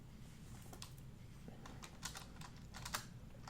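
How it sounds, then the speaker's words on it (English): Quick, soft clicking of computer keyboard keys, irregular bursts of typing heard faintly over a low background hum. "excuse the typing."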